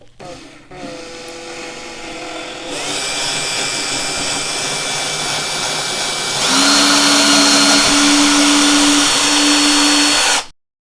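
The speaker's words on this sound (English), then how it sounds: "Get the drill and then just make a small hole here." Power drill cutting a small hole in a model railway baseboard, a loud steady whine that rises in pitch partway through and stops abruptly at the end.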